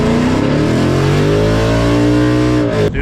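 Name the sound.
sports car engine turbo flutter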